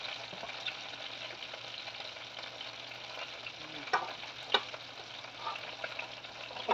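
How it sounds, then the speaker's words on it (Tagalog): Steady crackling sizzle of chicken frying in a pan, with a few sharper pops and spatters rising above the continuous hiss. "Prito lang to ako ng manok."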